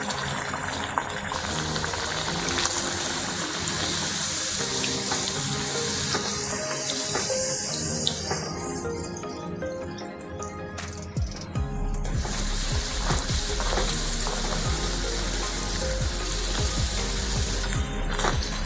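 Puris deep-frying in hot oil in a kadhai, a steady close sizzle with clicking, crackling bubbles running throughout and intensifying partway through, with no talking.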